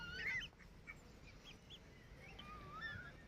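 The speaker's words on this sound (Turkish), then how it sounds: "Evet ileriden kaz geliyor" Several goose honks ring out over a steady low rumble of outdoor background noise, with a louder cluster at the start and a few later calls.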